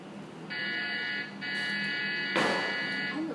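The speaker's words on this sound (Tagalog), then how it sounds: "nag-alarm yun, Charlene." An alarm at a gas station pump sounds a steady high electronic tone in two stretches with a short gap, as a louder burst of noise breaks in near the end.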